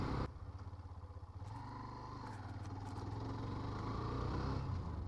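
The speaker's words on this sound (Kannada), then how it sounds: "ಡೈಲಿ ಬೈಕ್ ಓಡಿಸೋಕ್ಕಿಂತ ಇವತ್ತು ಸ್ವಲ್ಪ ಸ್ಮೂತ್ ಅನ್ನಿಸ್ತೈತೆ" A motorcycle with freshly changed oil thrums in a steady, pulsing rhythm as it rides along, the low rumble building slightly with wind noise over it.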